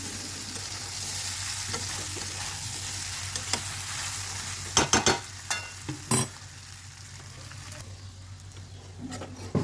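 Jackfruit sizzling with spices in animal fat in a pan, a steady low frying hiss with a few louder scraping stirs and clinks partway through.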